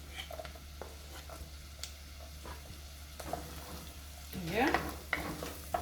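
Scotch bonnet pepper sizzling and frying in a pot of Jamaican turn cornmeal, with stirring and a louder burst of sizzle near the end; a brief voice speaks under it.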